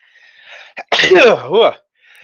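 A single loud, close sneeze with a sharp intake beforehand, then quiet.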